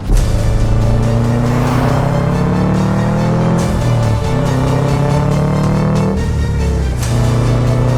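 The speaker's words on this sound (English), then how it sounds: "the special Prodrive back box, which just improved that exhaust note a little bit over the standard WRX" Subaru WRX Prodrive with a Prodrive back box exhaust, driven up Franschhoek Pass: a loud, continuous engine and exhaust note rising and falling through gear changes, revving up steadily between shifts, with no talk.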